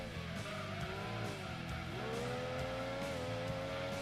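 A Mazda MX-5 in Gran Turismo 2 holds a steady engine drone through corners, its pitch dipping and climbing as it accelerates, with faint tyre squeal under a quiet game mix.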